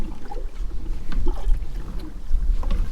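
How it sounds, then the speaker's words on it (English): Strong wind blows across a deep, clear lake while boating, a continuous low rumbling buffet with water lapping and sloshing against the hull, loud and close throughout. "Oh, the wind is bad here, guys."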